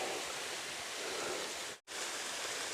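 Water pours down the tall cliff of Pha Rom Yen waterfall in Uthai Thani province as a constant broadband rush, steady and moderately loud, broken by one brief dropout to silence near the end.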